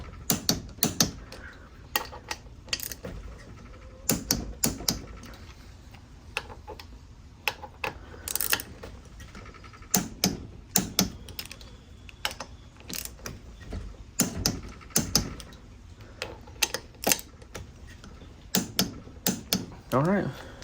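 A torque wrench tightens the billet side cover bolts on a carburetor, giving repeated bursts of sharp ratcheting clicks with short pauses between rounds, close and clear, while someone talks in between.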